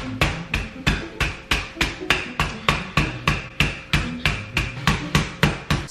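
Raw chicken is pounded flat to tenderize it with a steady run of about fourteen sharp, evenly spaced thuds, loud and close with no talking.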